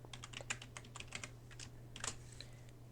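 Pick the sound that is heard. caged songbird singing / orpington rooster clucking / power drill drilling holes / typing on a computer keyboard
typing on a computer keyboard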